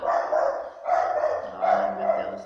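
A dog barks three times in a rough, rhythmic series, close and moderately loud with short gaps between barks.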